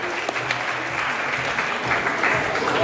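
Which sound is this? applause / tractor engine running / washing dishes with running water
applause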